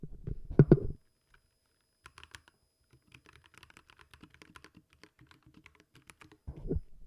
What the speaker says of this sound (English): I think I just type what I'm seeing here.